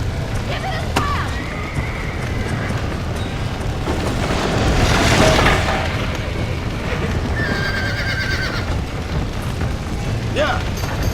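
In the game Red Dead Redemption, a horse whinnies and hooves clip-clop amid a busy, loud soundscape with rumbling effects and bursts of shouting.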